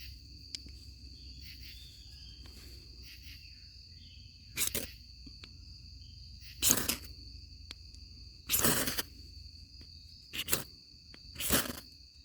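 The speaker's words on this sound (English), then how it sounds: "So let's grab our ferro rod." Ferro rod struck to ignite a birch bark firestarter outdoors, several sharp scraping bursts spaced a couple of seconds apart, loud and close, with quiet pauses and faint insect chirping in the background.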